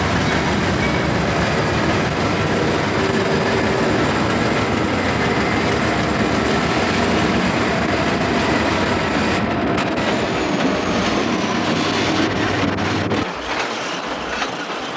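A freight train led by an SD40-2 ahead of two GE locomotives rumbles past steadily and loudly with wheel clatter and rail noise, fading somewhat toward the end.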